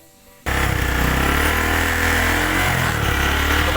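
A Honda Verza motorcycle engine with a suspected faulty stator coil, battery draining and ignition cutting out when hot, fires up after a short quiet moment and settles into a loud, close, steady buzzing idle.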